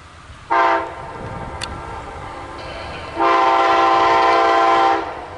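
Outdoors, an Amtrak P030 passenger train and a Norfolk Southern intermodal freight pass by as a loud, steady horn sounds in a short blast and then a longer sustained one, over a low rumble of moving rail cars.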